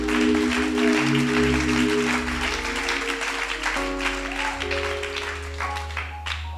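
A congregation claps steadily through a worship service, the dense applause continuing throughout alongside sustained keyboard or organ chords that shift pitch, fairly loud and with no talking.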